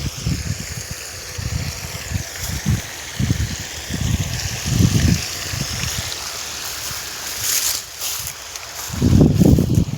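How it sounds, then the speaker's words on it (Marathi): Irrigation water flowing from taps into an onion field, with a continuous outdoor rush and trickle and bursts of low rumble, fairly close and steady. "बघा आपला कांद्याला पाणी सुरू आहे बघा"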